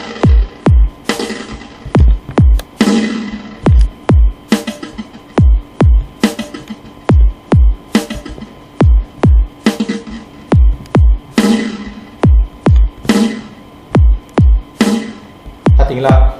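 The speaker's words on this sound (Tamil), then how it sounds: "எக்கோ எஃபெக்ட்லாம் கேட்குதா?" A programmed drum beat made in LMMS software, with an echo effect on the snare, plays as a steady loud loop of punchy kicks and snares whose hits trail off in short repeating echoes.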